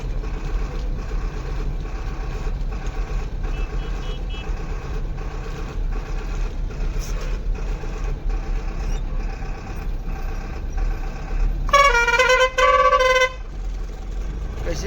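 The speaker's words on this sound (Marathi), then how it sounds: "फुल ट्रॅफिक आहे" Congested road traffic near Ranjangaon on the Pune to Shani Shingnapur route, with a steady rumble of idling and creeping vehicles and one loud, sustained honk near the end, heard over the engine drone.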